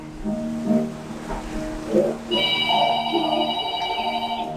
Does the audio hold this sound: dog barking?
no